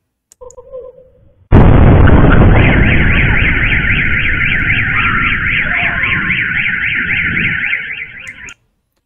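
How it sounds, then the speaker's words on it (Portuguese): A loud explosion at the port of Azov, a sudden heavy blast followed by a long rumbling roar that holds for several seconds, with a pulsing alarm-like wail over it, then an abrupt cutoff. "Alguma coisa no porto explodiu."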